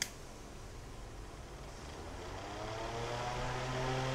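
Antique electric fan with aircraft-propeller-style blades spinning up, a soft airy whoosh that builds into a faint rising whistle toward the end, no voices.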